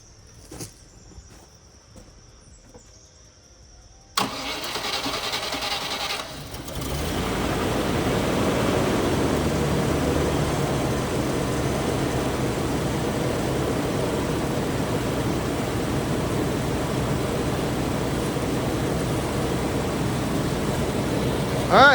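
Range Rover Classic engine cranks and fires at about four seconds after near-silence, then settles into a loud, steady idle that carries on close by for the rest of the time.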